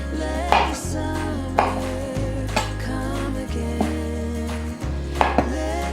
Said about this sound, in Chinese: 把茄子切成圓片，薄薄的，一片一片的切，像這樣子的厚度。